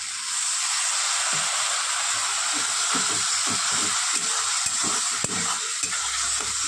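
A turmeric and ground spice mix for mung dal sautéing in a pan, with a continuous close sizzle and hiss and repeated scraping strokes of stirring throughout.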